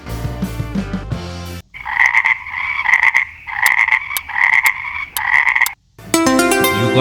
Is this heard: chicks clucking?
no